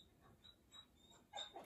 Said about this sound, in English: I don't know if you can hear her growling, but she is sitting right outside the door.